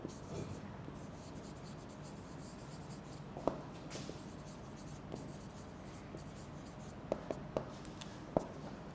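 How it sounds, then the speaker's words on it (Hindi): Marker or chalk writing on a board during an English entry-test lecture, faint scratchy strokes with a few sharper taps, continuous and quiet under a low room hum. "मैं लिख देता हूँ"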